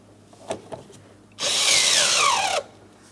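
A power tool with a socket and extension drives anchor bolts into the door of a 2004-2008 Pontiac Grand Prix, giving one loud whirring burst of about a second after a couple of faint knocks.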